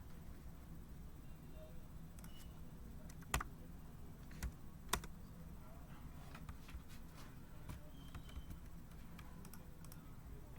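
Quiet keystrokes on a computer keyboard tap out in an irregular run, faint and close, with a couple of sharper key clicks standing out against a low background hum.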